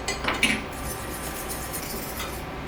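A whisk clinks and scrapes against a pan of clumpy gravy, with a few sharp metallic taps early on before settling into a soft, quiet swishing.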